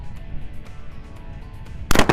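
A shotgun fires once at a clay skeet target at an outdoor shooting range, a sharp loud blast arriving at the very end after a quiet lead-in.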